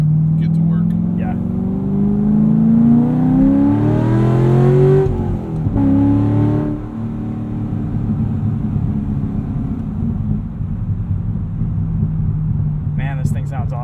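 A 2012 Chevrolet Corvette Z16 Grand Sport manual coupe engine revs loudly from inside the cabin while driving, with a deep rumble that climbs in pitch, drops off around a shift, then settles into a steady cruise drone.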